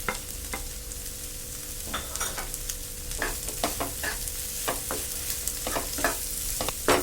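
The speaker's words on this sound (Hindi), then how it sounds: "अब इसमें जो हमने मसाले ले रखे थे वो सब ऐड करेंगे और थोड़ी देर चला लेंगे।" Spices being stirred into a frying bread pakora filling of mashed potato in a pan, with a soft steady sizzle and repeated scraping strokes of a spoon, quiet and close, no voices.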